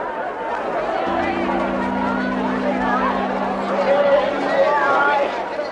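A crowd chatters and murmurs at a carousel, a dense babble of many voices throughout, with a low steady hum underneath from about a second in.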